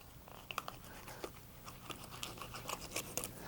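Knife filleting a snapper on a cutting board, with quiet crisp snips and crunching cuts through flesh and bone in an irregular rhythm, faint and close with a low room hum.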